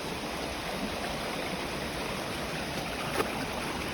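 Water rushes down a hydro mining channel into a sluice as a steady, dense, close roar with no voices over it.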